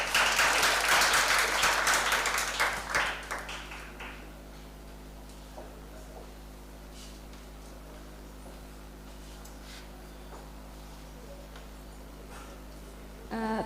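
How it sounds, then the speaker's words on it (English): An audience applauding after a presentation: a loud, full round of clapping that fades over about four seconds into a quiet room. "Once again, let us applaud Marian."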